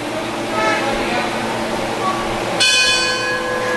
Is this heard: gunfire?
no